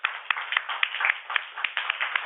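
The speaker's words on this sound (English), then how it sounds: "I want all of you to clap for this." Steady group clapping from an audience, a dense patter of hands with sharper individual claps standing out, continuous and moderately loud with no voices.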